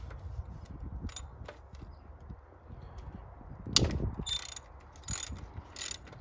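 A 12 mm, 1/2-inch ratchet loosens overly tight thermostat bolts behind a harness, giving quiet, close bursts of clicks separated by pauses, then a heavier clunk and a few more sharp click runs.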